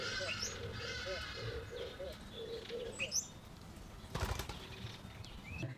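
Pigeons sitting on a fence give a series of low, soft cooing calls in a rhythmic run, close by, with other faint bird chirps and outdoor background noise around.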